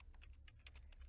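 Quick, light keystrokes on a computer keyboard as a terminal command is typed on Ubuntu, a rapid irregular run of soft clicks close by and fairly quiet.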